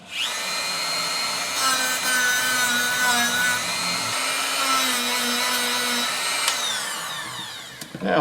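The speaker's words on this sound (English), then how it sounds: "you sand from there to there" A power tool sands a part of an SKS rifle during an underfolder stock modification, giving a loud, continuous whining grind close by that shifts pitch slightly before tapering at the end.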